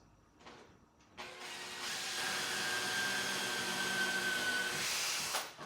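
A power drill bores a 3–4 mm pilot hole into a bamboo bike frame, whirring steadily and close for several seconds after a brief start-up, then stopping abruptly.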